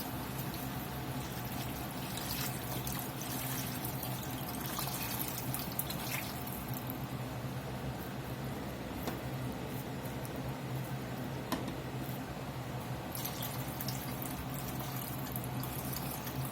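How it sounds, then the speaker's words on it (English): Beef broth poured into a pot holding a chuck pot roast makes a steady, soft liquid rush and splash that continues throughout without talking. "Go in with some more beef broth."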